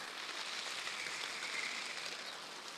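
Rain falls on a garden as a soft, even hiss of drops. It runs steadily throughout, with no voices.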